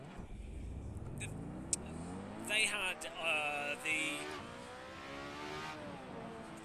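A Lotus 125 race car in the Assetto Corsa racing game, its engine rising and falling through revving sweeps and gear changes while someone talks over it.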